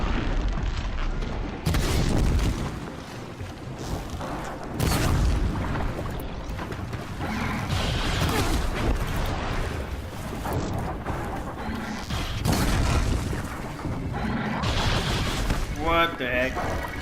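Booming blasts and fiery bursts from enemies hurling fireballs in Horizon Zero Dawn, loud and continuous across the stretch with repeated heavy impacts and rumbling explosions.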